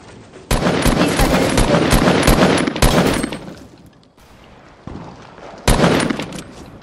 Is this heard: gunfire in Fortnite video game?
yes